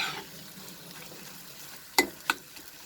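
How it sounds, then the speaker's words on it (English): A green pea mixture for hare matar ki puri fries in a pan over a medium flame, giving a soft steady sizzle, with two sharp clinks of a spoon against the pan near the end. "So I'm going to fry this for 2 minutes"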